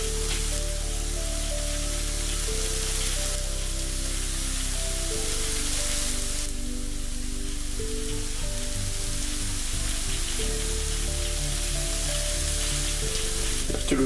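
Food sizzling steadily on a George Foreman Smokeless Indoor Outdoor BBQ Grill with no oil added, the heat turned up to medium-high; a continuous close, even crackle with a low hum beneath, no talking.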